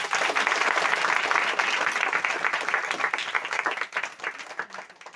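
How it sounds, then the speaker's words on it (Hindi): A church congregation at a Hindi-language Christian worship service breaking into loud, dense applause that fills the room, then gradually thins and fades toward the end. "जोरदार ताली लगाएं"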